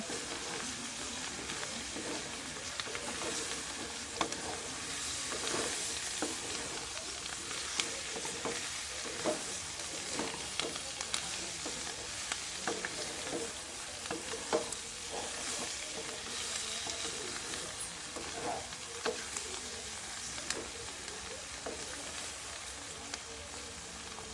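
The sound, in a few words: stirring frying potato and cauliflower curry in a pan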